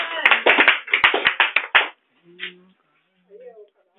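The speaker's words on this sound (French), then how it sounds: "On acclame Jésus pour la vie." A church congregation bursts into loud, rapid hand clapping for about two seconds, crisp and close, then falls silent apart from a few faint voices.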